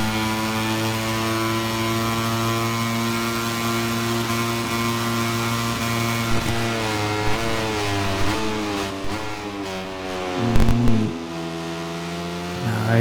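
KTM racing motorcycle in MotoGP 25 screaming along the front straight, a sustained high-revving engine whine with shifting pitch, then a brief gear change, loud and continuous with no talk over it.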